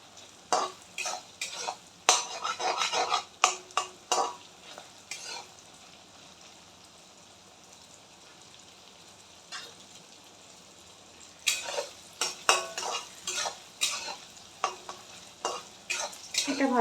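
Soybean chunks frying in a pan while being stirred, heard as bursts of loud, rhythmic spatula scraping and sizzling that pause into a quiet stretch before resuming, close and without voices.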